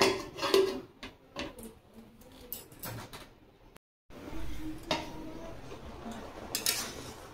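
A lid goes onto a pot of taro with salt and turmeric on a stove: several clanks and scrapes of metal cookware, close and sharp, separated by short quiet gaps.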